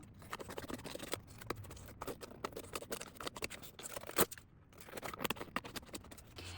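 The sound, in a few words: cutting off excess book page with scissors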